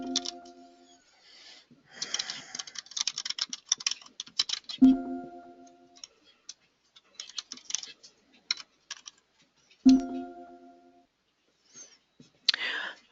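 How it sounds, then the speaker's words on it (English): Keys clatter on a computer keyboard in uneven bursts of rapid tapping while text is entered into OneNote, with brief pauses and a few sharper clicks between runs. "so I'll type in what they have here"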